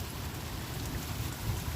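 Steady rain falling after a hailstorm as a storm passes, a dense, even patter on surfaces with a low rumbling undertone, continuous and fairly close throughout, with no voices.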